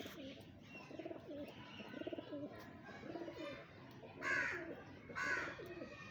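A pair of pigeons coos in repeated soft, rhythmic phrases close by, with a couple of brief fluttery bursts near the end and faint background murmur.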